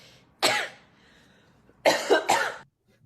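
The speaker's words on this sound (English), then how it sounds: "that cough, I'm terrified" A single harsh cough, a short pause, then two more quick coughs in a row, close and loud against a quiet background.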